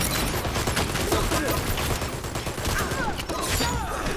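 Grenade blasts and gunfire in the online shooter Dirty Bomb come as a dense, loud, continuous barrage of rapid shots and bursts with no clear pause, and faint voices mixed in.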